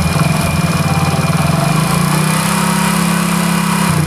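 A Honda CD100 motorcycle engine idles slowly nearby with a steady, low, pulsing putter and a constant hum, loud and unbroken, with no voices.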